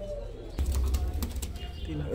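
Pakistani golden pigeons flap their wings in a sudden burst of fluttering close by, followed by soft low cooing, with a voice faintly present.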